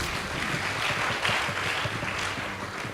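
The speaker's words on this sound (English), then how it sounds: "Please give them a round of applause." A crowd applauds at a Kagumo High School versus Mumbi High School event, a dense, continuous roar of clapping that fills the room evenly from start to finish.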